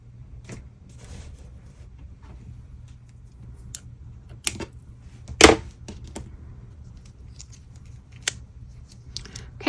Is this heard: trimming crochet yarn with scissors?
yes